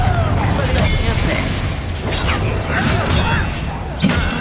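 A Confringo fire spell blasts during combat against a goblin in the Hogwarts Legacy video game. Loud booms and crashing impacts layer over a dense battle din, with voices mixed in.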